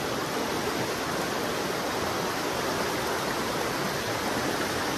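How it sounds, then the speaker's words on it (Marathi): A strong, fast-flowing river in the Konkan, its current rushing as a loud, dense, unbroken roar that stays close and constant throughout. "सकाळी तर ह्याच्यापेक्षा जास्तच फोर्स असेल पाण्याचा।"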